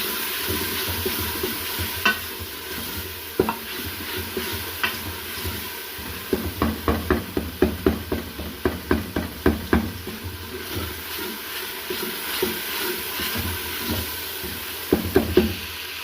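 Garlic ginger paste fries with browned onions in a pan, a steady low sizzle under repeated scraping and stirring taps from a spoon, close by with no talking.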